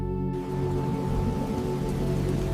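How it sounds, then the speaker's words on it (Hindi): Heavy rain falls at night on a hill in Darjeeling as a steady, dense wash with a constant low drone beneath it, continuous and fairly loud throughout. "उस रात डाउ हिल पर अचानक तेज बारिश शुरू हो गई।"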